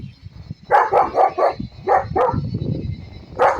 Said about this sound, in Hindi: ये रहा वो कुत्ता यार, और ये हमला करने आ रहा है।